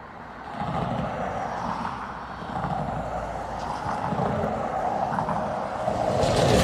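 United Boeing 757 in Star Alliance livery, arrived from Newark, taxiing at Dublin Airport: a steady jet engine rumble and whine that holds throughout and swells slightly toward the end, moderately close with no talk.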